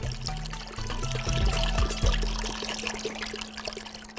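Milk is poured from a container into a cooking pot, a close, continuous liquid splashing and gurgling that shifts in tone as the pot fills, with no voices.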